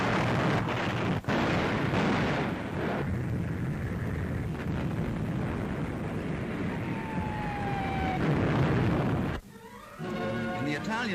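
On D-Day, heavy naval shelling pounds German artillery positions. A dense, loud roar of blasts rolls on continuously, a thin falling whistle cuts through near the end, and the din drops briefly before resuming.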